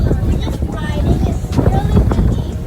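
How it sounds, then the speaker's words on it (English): Strong wind buffets the microphone in a continuous low rumble aboard a ferry, with the ship's engine droning underneath and muffled voices in the background. "Yeah, it's really windy."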